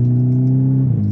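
A VW Scirocco engine with a DSG gearbox hums steadily, then drops in pitch as the gearbox shifts down near the end, heard close from inside the car with no talk.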